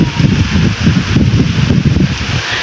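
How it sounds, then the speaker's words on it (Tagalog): Heavy rain and wind in a storm make a constant loud rushing wash close to the microphone, with gusty buffeting at the low end and no let-up across the clip. "pero namumuti yung ulan, no?"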